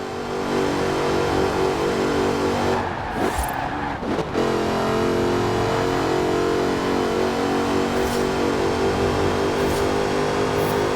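A Jaguar Project 7 racing car in Forza Horizon 4 holds a loud, sustained engine drone, briefly dipping and then revving back up to a steady high roar.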